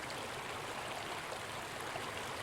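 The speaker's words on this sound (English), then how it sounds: "we hear the water churn below the embankment where it drops over a gray ledge" The Paria River churns steadily over a gray rock ledge below an embankment, a continuous rushing wash of water heard close by with no voices.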